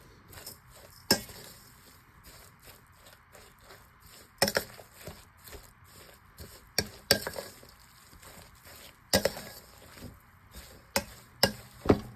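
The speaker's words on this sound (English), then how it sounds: "I'm just gonna stir that to combine" Seasoning stirred into beef goulash in a pot: a spoon knocks and scrapes against the pot at irregular intervals, with a few sharper clanks and soft stirring in between, fairly close, no talking.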